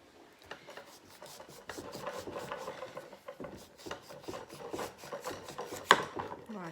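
A large knife peeling a celeriac root, a run of close, soft scraping and rasping strokes in an uneven rhythm with a sharper knock near the end, fairly quiet.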